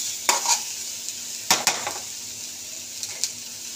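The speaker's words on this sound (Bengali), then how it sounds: "মশলাটা কষা হচ্ছে, তার মধ্যেই টমেটো আর কাঁচা লঙ্কা দিয়ে দেবো" Spice masala with tomato and green chilli stir-frying in a pan for bhindi chhal, a few scraping stirs clustered in short bursts over a faint steady sizzle, close and moderately loud.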